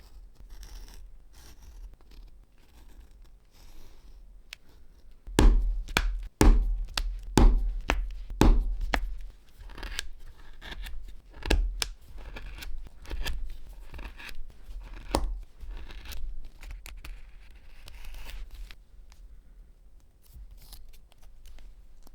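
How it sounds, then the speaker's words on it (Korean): Scissors snip repeatedly through leather, sharp crisp cuts in irregular bursts, close by, with soft handling rustles between them. "정리하고 재단해 보겠습니다."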